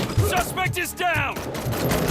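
Rapid gunfire bursts from a Robocop: Rogue City firefight crackle beneath loud shouted commands from a voice in the clip, shots overlapping continuously through the short stretch.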